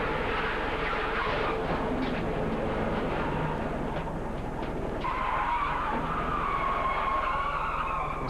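An IROC race car skids and slides through grass and dirt at Daytona, heard onboard as a steady, loud roar of engine and tire noise that rises in pitch near the end.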